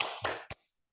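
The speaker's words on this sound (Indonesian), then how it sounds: "Tepuk semangat, semuanya ikuti ya." Rhythmic group clapping for a 'tepuk semangat' ice-breaking cheer in a classroom lesson: a few sharp claps in quick succession, fairly close, with no talk over them.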